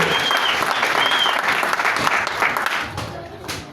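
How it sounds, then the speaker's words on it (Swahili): A church gathering applauds a pastor in a steady, dense wash of clapping from a crowd, loud and continuous before tapering near the end. "Makofi tena kwa Pastor Sengo"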